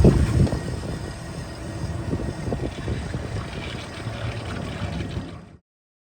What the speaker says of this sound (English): we're going to fire up both engines together